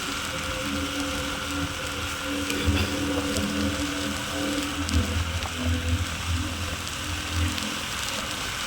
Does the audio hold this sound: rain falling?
yes